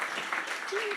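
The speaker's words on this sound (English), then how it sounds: "a round of applause to all the entries" Brief applause at an awards ceremony during a conference, a steady patter of clapping from the audience with a voice talking over it.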